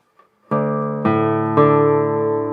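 Three bright classical guitar notes plucked with a gel fingernail ring out one after another about half a second apart, each sustaining with a clear, crisp attack and no talking.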